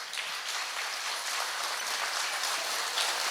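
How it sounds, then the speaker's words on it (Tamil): Audience applause at a preschool graduation day ceremony: dense, steady clapping from a crowd, close and loud, continuing throughout with no voices over it. "அதற்கு ஒரு அருமையான கைதட்டு கொடுத்த"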